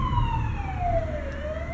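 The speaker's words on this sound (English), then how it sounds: "Siren." An emergency vehicle siren passes outside, its wailing tone sliding slowly downward and steady and loud throughout, with no talk over it.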